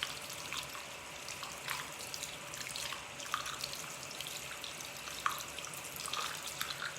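Tap water runs steadily into a sink with a soft, continuous splashing and a few brief drips and clinks, fairly quiet and without voices.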